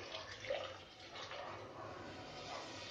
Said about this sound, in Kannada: ಸ್ವಲ್ಪ ಹುರ್ಕೊಂಡ ನಂತರ ನೀರು ಆ್ಯಡ್ ಮಾಡಿ.